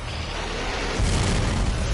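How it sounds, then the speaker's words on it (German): A BFG shot from the DOOM Eternal video game erupts into a deep, heavy explosion, a rumbling boom that swells midway and keeps roaring loudly to the end. "Nehmen wir gleich BFG-Schuss her."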